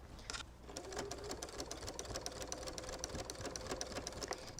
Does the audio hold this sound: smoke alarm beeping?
no